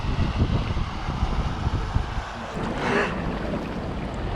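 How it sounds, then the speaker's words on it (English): Waves wash and slosh against a kayak on the River Thames, a continuous close rushing of water with a brief swell partway through. "A few waves."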